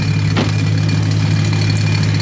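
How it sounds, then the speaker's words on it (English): A BMW 235i with an N55 engine idles with its active exhaust wastegate stuck fully open, a steady loud low drone with a faint rattle riding on it and one brief clank near the start, heard up close without talk. "His exhaust is rattling, and it's all because basically active wastegate completely open on him."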